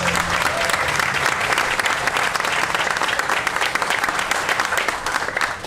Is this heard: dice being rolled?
no